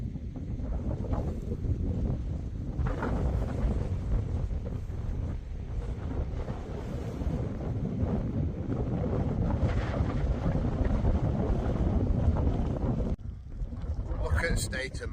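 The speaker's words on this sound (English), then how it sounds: "get ready for wind" Strong wind batters the exposed edge of Rushup Edge near Edale, a constant heavy buffeting roar at the microphone lasting throughout, with voices partly buried beneath it.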